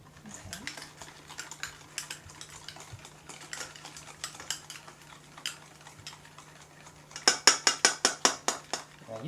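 Spoon knocking and scraping pumpkin puree into a mixing bowl for a fall dessert batter, a steady run of soft close taps that ends in a quick burst of sharper clinks near the end, with no talking.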